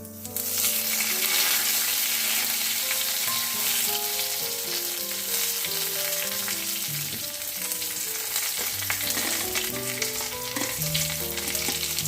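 Bay leaf sizzling in hot ghee as a tempering for paneer curry, a steady close frying hiss that continues throughout without voices.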